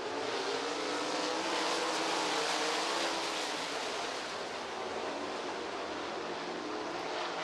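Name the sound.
race cars refiring for restart at I-90 Speedway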